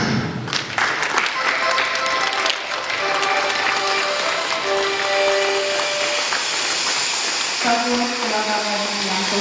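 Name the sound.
audience applause for the winner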